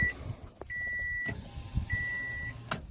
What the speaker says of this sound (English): since it's a Toyota, have the rear window here that rolls down